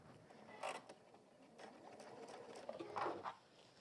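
A sewing machine stitching a quarter-inch seam on fabric for a bag with a slightly longer stitch length, running in short close bursts of whirring mechanism with brief pauses between.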